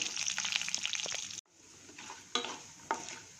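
Peanuts and cashews frying in a pan for masala makhana oats rava upma, a crackling sizzle with stirring scrapes, dropping abruptly midway to quieter sizzling broken by a few sharp clattering stirs.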